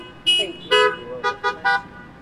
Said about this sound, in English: greet one another with a sign of Christ's peace with a brief beep of the horn